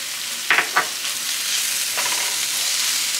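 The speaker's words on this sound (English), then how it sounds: "I'm just gonna let this saute for a few minutes" Vegetables and tomatoes saute in a hot pan with black pepper and salt, a steady close sizzle broken by a few sharp stirring scrapes and clatters near the start.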